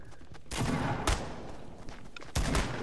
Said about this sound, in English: There's firing everywhere.